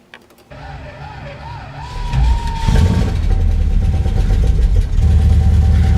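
A Dodge Dart with a carburetor issue idles near 1000 RPM, starting after a few clicks; the engine note swells and settles into a steady, fairly loud mid-range hum with some rattling.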